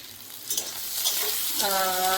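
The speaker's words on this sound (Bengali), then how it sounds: "আর আমি রান্নাঘরে বানাচ্ছি মাটন পায়া স্যুপ" Mutton paya soup cooks in a kitchen, making a brief sizzling, bubbling sound with a stirring scrape and a rising tonal hiss near the end, no talking.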